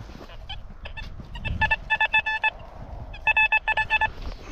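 A metal detector sounding while someone searches for coins behind old houses, giving short, fine, high-pitched beeping tones in quick repeated bursts, clear and fairly close over faint outdoor background noise.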